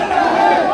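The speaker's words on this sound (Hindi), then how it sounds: "ये तमाम तस्वीरें दिखा रहा हूँ आपको कि काफ़ी रश हो गई है, भीड़ हो गई है।" A dense crowd of protesters at Jantar Mantar at night, a loud continuous wash of many voices chattering and shouting together.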